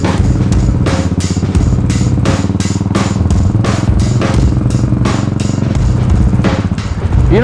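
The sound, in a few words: Royal Enfield Continental GT motorcycles riding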